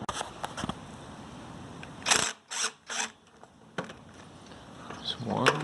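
Ratcheting bursts as 10mm carburetor bolts on a Toro Recycler 20331 lawn mower are broken loose, three short clicking runs in quick succession, close and fairly loud, with quieter handling noise around them.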